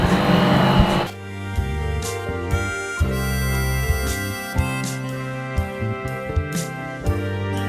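A laser engraver's stepper motor drives the Z axis downward, giving a steady tonal whine that shifts pitch in stages, with soft clicks on top, and no one speaking.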